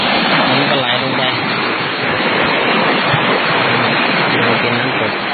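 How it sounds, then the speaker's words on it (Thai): Spring water pouring out of a source and running down into a waterfall at Ban Phue, Udon Thani, a loud, close, unbroken rushing wash with a voice talking over it. "เป็นน้ำตก"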